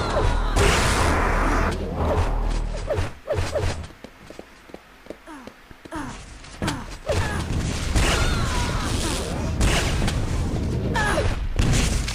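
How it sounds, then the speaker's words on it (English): Rocket launcher fire in Quake Live during a team deathmatch, with repeated booming blasts and mechanical clanks mixed with running footsteps and shifting game noise, loud and busy throughout apart from a quieter stretch in the middle. "See him just shooting that rocket there, trying to get the spawn kill."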